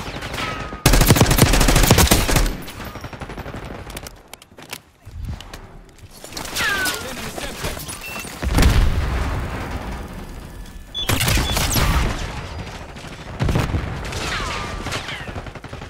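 A frag grenade blast and gunfire in the video game Call of Duty Black Ops 6: loud booming explosions and bursts of rapid automatic fire come in several waves over continuous battle noise, with a voice briefly heard in the mix.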